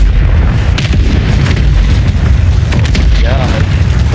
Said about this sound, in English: Mortar fire is crazy work.